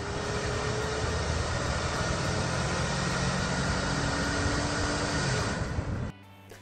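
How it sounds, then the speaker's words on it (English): A car engine with a worn-out turbocharger runs loud and close, a dense roar with a thin whine rising through it, before cutting off abruptly near the end; no one speaks. "This is the noise made by a worn-out turbocharger."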